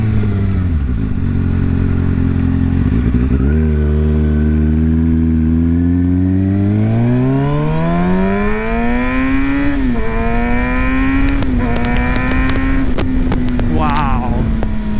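A Kawasaki Ninja 636 sportbike engine revs up through several gears, rising in pitch with sharp shifts and a raspy, high-revving howl, loud and close with wind noise and no speech.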